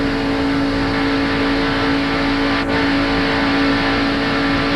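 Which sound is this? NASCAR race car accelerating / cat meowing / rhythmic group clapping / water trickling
NASCAR race car accelerating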